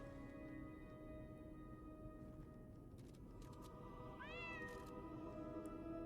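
A cat in the Lies of P video game gives one clear, rising meow near the end, heard over a steady hum of game ambience and soft music.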